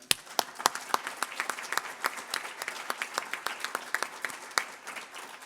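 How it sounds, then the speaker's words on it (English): Scattered applause from a modest audience at a business leadership event on aviation and tourism, sharp individual claps over a soft wash of clapping, heard fairly close. "So a great round of applause, everyone"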